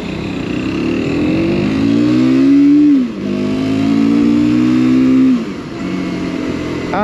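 Mondial Piega 125cc motorcycles ride past close by, engine notes rising and falling in two loud sweeps as each bike approaches, passes and pulls away.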